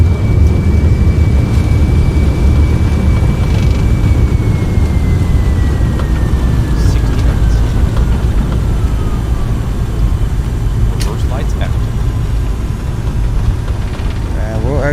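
Thrust reversers on an MD-82 airliner roar loudly and steadily on the landing rollout in a flight simulator, a continuous dense rumble with a slowly falling whine above it.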